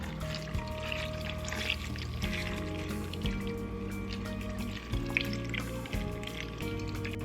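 Beef broth pours into a pot over Guajillo chilies, bay leaves and garlic cloves for barbacoa, a continuous liquid splash and trickle lasting several seconds, with little talk.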